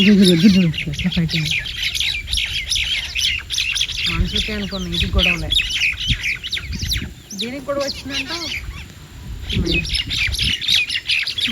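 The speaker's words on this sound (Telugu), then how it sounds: "ఒక నాలుగు పక్షులు బాగా కొట్టుకుంటున్నాయండి అచ్చం మనుషులు ఎలా కొట్టుకుంటారో అలా బాగా కొట్టుకుంటున్నాయి" Four sparrows fighting, bursting into rapid, harsh squawks and chirps in overlapping flurries close by, while a person talks briefly over the racket.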